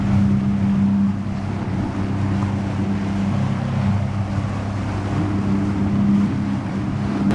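A jet ski on Lake Erie runs with a steady, close engine drone and a low hum. Water and wind noise sit underneath, and no one speaks.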